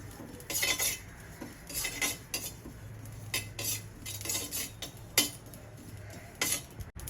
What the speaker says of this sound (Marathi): आता आपण यावर थोडासा ओवा घालूया